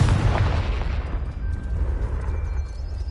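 A Confringo fire spell blast in the Hogwarts Legacy video game, heard as a loud, deep rumbling explosion that hits at once and then decays slowly over a few seconds.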